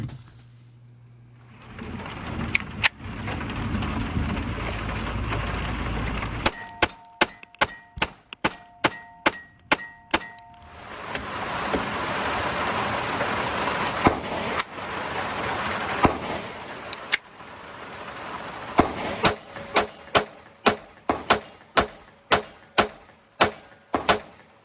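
A Glock 44 .22LR pistol firing: sharp, loud, close cracks in rapid strings, about a dozen in one burst and more clusters later, separated by stretches of quieter ambient noise, with no talking.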